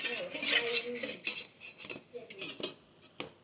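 A utensil scrapes and clatters against a sticky pan while gluten-free flatbread is flipped, giving repeated close scraping strokes and metallic clinks in an uneven rhythm.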